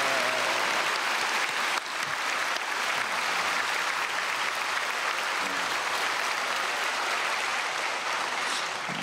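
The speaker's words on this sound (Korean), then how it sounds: "우리 금수저 목사님에게 박수하겠습니다" A church congregation applauds the pastor after a Sunday worship sermon, a large crowd clapping loudly and evenly for about nine seconds with a slight dip near the start.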